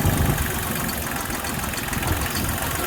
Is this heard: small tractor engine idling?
yes